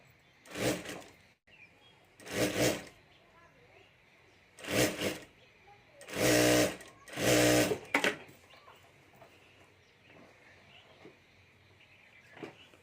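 A sewing machine stitches a zip onto a handmade Banjara bag, running in several short bursts of whirring stitches, close and fairly loud, with quiet pauses for repositioning between runs.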